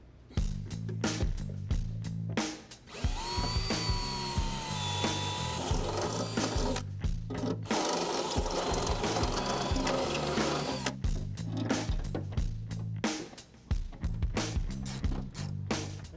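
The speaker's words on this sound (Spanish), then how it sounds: "Solo voy a ponerla aquí, hacer un par de marcas y luego perforar un par de agujeros" A drill bores holes through a metal firewall plate with long, loud, steady whirring bursts broken by short pauses, heard up close.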